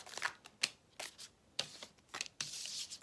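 Tarot cards being shuffled by hand, several quick riffling bursts separated by short pauses, close and quiet with no talking.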